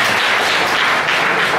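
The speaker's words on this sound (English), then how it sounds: "please give the organizers a round of applause" A keynote audience at an interaction design event in Taiwan applauds the organizers, with a brief, dense wash of many hands clapping together at steady strength.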